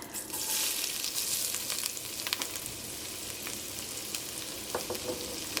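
Chopped ginger frying in ghee for a chicken curry, a steady close sizzle with light crackles and occasional stirring scrapes throughout.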